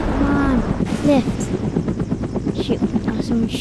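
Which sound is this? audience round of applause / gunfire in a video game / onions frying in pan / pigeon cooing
gunfire in a video game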